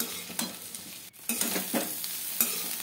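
Soybeans fry in a pan with cashews and raisins for soybean pulao, a close continuous sizzle broken by several spoon scrapes and stirs, with a brief drop partway through and no voices.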